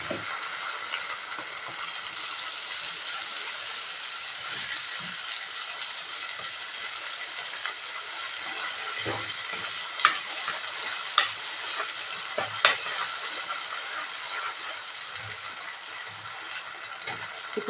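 Tomato puree cooking in a pan for a chana dal and potato masala curry, a steady close sizzle with scattered sharp clicks of a spoon stirring, no voices.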